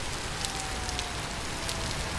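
Rain falls in the survival video game Vintage Story, a constant soft hiss of drops on surfaces at an even, moderate level with no voices.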